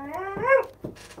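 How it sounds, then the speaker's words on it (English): A lurcher howls in a rising, wavering tone, then gives a couple of short whimpers, close and loud, with no talking over it. "that's my dog singing"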